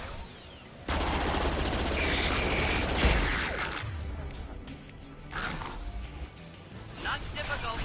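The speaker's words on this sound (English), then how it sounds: "there's a mounted machine gun on this thing." A mounted machine gun fires in the video game Mass Effect 2, a dense burst of rapid shots that rings out loud, then breaks into crashes and scattered bangs of combat noise.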